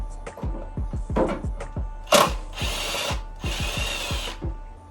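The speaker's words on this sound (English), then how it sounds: "So now you're gonna get your 10mm socket and remove the bolt that's connecting your intake box to the fender over here." A 10mm socket driven by a power tool loosens the intake box bolt on a 2013 Mustang GT, whirring in two sustained bursts after a series of short clicks and taps, close up with no talk.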